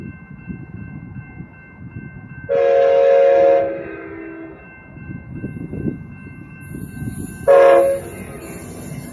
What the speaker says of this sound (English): Now this is it, here it comes now